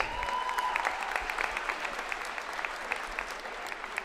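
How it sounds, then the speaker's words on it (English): A crowd at a high school basketball game applauds graduating senior players, a continuous broad wash of clapping that holds at an even, moderate level for several seconds without speech. "Let's give one more round of applause for seniors Samantha Garcia, Cassidy Mahan, and Ana Mendez."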